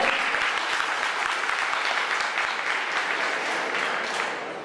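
A large audience at a civic meeting or public hearing applauding steadily, a dense, even wash of clapping that holds for several seconds and then begins to fade.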